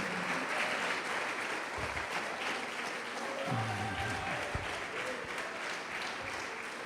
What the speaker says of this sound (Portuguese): Pode aplaudir o Senhor e glorificar.